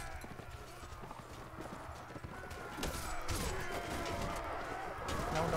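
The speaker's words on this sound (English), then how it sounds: "these horses are really annoying." Galloping horses in the Mount & Blade Warband video game, with a steady drumming of hooves that grows louder toward the end and a possible whinny, under a busy battle din.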